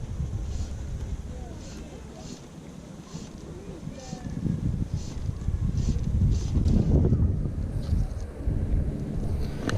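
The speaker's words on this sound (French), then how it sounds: "Le vent souffle trop" Strong wind gusts across the microphone beside the Rio Caldo in Gerês, Portugal, during black bass fly fishing, a continuous low roaring buffet that swells louder in the second half, with a muffled voice faintly underneath.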